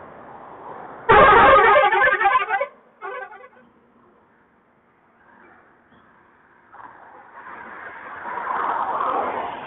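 A loud car horn blares for over a second, then traffic noise swells again as heavy vehicles rumble past nearby on a suspension bridge.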